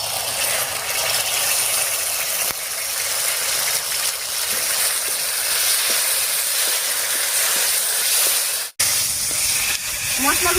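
Ground ginger-garlic, chili, coriander and cumin pastes added to fried onions sizzle loudly in hot oil, a dense, steady hiss close by that cuts out briefly near the end before resuming.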